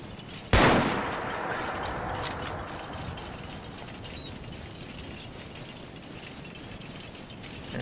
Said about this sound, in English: And we're just going to shoot him.